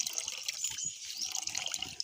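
Rice being rinsed in water, a soft, close swishing and trickling of liquid, quiet and continuous with no talking.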